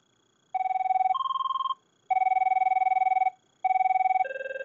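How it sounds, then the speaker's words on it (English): Classic ringtone on an Avaya IP Office 9641G touchscreen desk phone: three clean electronic two-tone trills, each about a second, separated by short pauses, loud and close with no talk. "if we went to classic, that's the more boring sounds that most people have on their current phones"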